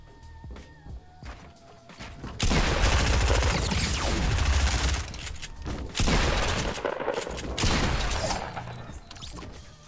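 Gunfire in the video game Fortnite, rapid bursts of loud shots and fusillades with rattling game effects, quieter mechanical clicks at the start, then sustained heavy firing.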